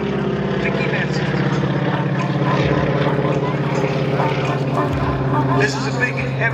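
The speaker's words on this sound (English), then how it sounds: "This is a big, heavy airplane." A big, heavy biplane trainer powered by a large Pratt & Whitney engine flies at an airshow, its steady droning engine note running throughout under an announcer's continuous talk.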